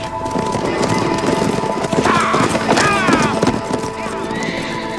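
Horses neigh and gallop in a 1980s Western action film scene, hooves clopping rapidly under several loud whinnies in the middle, mixed with shouting voices and soundtrack noise.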